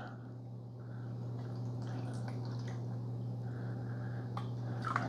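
Fresh water fills a Black & Decker 5-cup 4-in-1 coffee maker with soft trickling and scattered drips over a steady low electrical hum.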